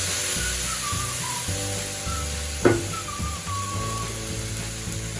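Chicken sizzles in a pan as light soy sauce is poured in, a steady frying hiss with a brief sharp splash-burst of sizzle partway through, fairly faint, over a low background hum.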